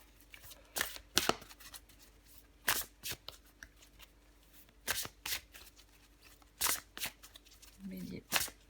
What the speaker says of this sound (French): Je vais encore tirer une carte pour vous, les béliers.